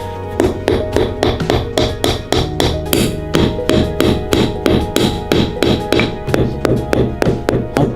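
Repeated hard tapping and knocking of a frozen banana used as a hammer in bitterly cold Yakutsk, a steady series of sharp close strikes in quick rhythm, alone without talk.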